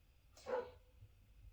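A single short dog bark, fairly faint and slightly distant, over a quiet low background hum.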